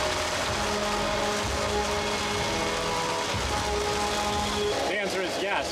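Rain washes steadily over a Toyota RAV4 driving through Louisiana and Florida, a constant hiss of water and road noise from inside the cabin, with brief voices near the end.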